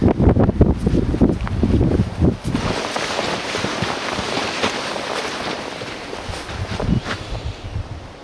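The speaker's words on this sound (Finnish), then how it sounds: "Taas tuulee kyllä." Wind gusting outdoors by a lake on an overnight summer hike in Finland, strong buffeting rumble on the microphone at first, then a steadier rushing breeze with faint rustling.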